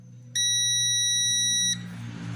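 A single steady electronic beep, high and piercing, holds for over a second before cutting off, over a low background hum.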